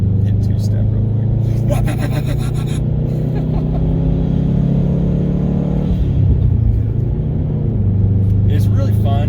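A car held on a two-step launch limiter at around 4,000 RPM roars loudly and steadily, with strong intake noise, a constant close engine drone and rapid crackling bursts, pitch dipping and recovering midway, with voices underneath.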